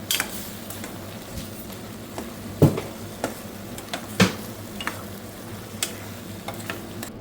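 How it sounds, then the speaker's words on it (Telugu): Curry sizzles gently in a pan as a spoon stirs it after spice powder is added, with a few sharp scraping knocks of utensil against metal standing out over the soft hiss. "ఇప్పుడు నేను కలుపుతున్నాను పొడేసి ఒకసారి చూడండి"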